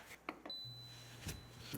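A Typhur Sync smart oven set to preheat at 400 degrees answers a button press with a short electronic beep, a clear tone standing alone over a faint low hum in a quiet kitchen.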